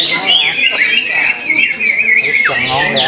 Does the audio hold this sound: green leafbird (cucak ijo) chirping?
yes